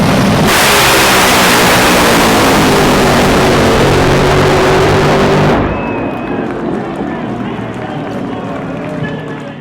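Top fuel drag racing cars launch at Perth Motorplex during the Australian Top Fuel Championship, a thunderous, crackling nitro engine roar that overwhelms everything for about five seconds, then cuts away to a fading distant rumble and crowd ambience.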